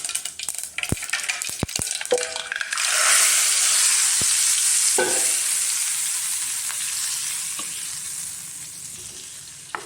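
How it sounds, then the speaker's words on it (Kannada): A few sharp metallic clinks, then a sudden loud burst of sizzling as hot oil tempering is poured into green avarekalu (hyacinth bean) sambar, hissing steadily and slowly fading away. "ಇದರೊಳಗಡೆ ಒಗ್ಗರಣೆ ಮಾಡಿರಲ್ಲ ಹಾಕೋಣ"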